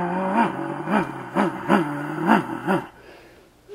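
A man vocally imitates a motor engine, a run of about seven rhythmic rising-and-falling 'vroom' pulses, close and clear, then a short quiet gap.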